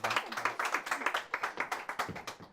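Audience applause at a Korean book talk and author meeting, a steady run of dense hand clapping that fills the room, moderately loud with brief rhythmic peaks throughout.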